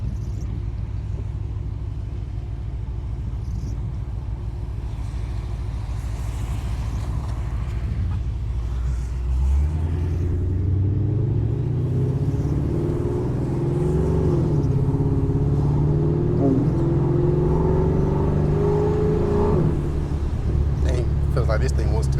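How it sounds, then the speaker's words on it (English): A boosted Ford Mustang GT driven in manual mode, starting with a steady low exhaust rumble that swells into a louder, rising roar as the car accelerates through the gears, heard from inside the cabin. "All right, let's hit this exhaust."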